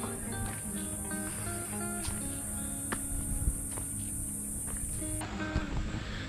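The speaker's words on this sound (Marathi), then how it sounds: "तुम्हाला रातकिड्याचा आवाज ऐकू शकता तुम्ही." Crickets keep up a high continuous whine in dense forest along the trail to Kankeshwar temple near Alibag, a steady bright drone heard alongside faint footsteps and rustling without speech.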